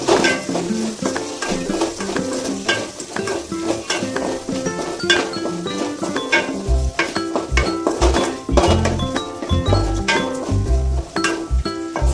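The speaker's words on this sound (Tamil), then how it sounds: "ஸோ சின்ன வெங்காயம் போட்டு அதோட கொஞ்சம் உப்பு போட்டுக்கலாம் லைட்டாக உப்பு போட்டு அந்த வெங்காயம் வதங்குற அளவுக்கு" Small shallots with a little salt sautéing in a pan, loud close sizzling overlaid by frequent metallic scrapes and clinks of a spoon stirring against the pan in an irregular rhythm.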